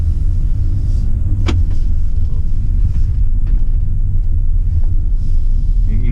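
A Hyundai i20 N-Line with N8 DCT gearbox pulls away, its engine and road rumble a steady, loud low drone throughout with some wind buffeting, plus a brief sharp click near the start.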